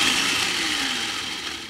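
An electric blender motor runs steadily for a short burst, its close, whining hum holding constant with a slight drop in pitch.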